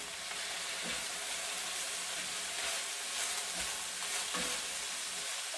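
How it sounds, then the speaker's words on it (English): Carrot and green onion stirred in a frying pan with pork, a steady close sizzle and hiss running throughout, with a few soft scrapes of the utensil against the pan. "let me stir a little bit"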